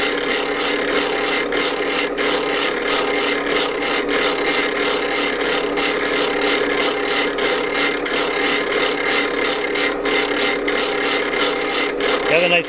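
A block plane blade is sharpened against a turning wheel, giving a steady, loud grinding rasp with rhythmic pulses throughout.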